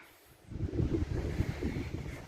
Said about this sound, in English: It's usually windy up here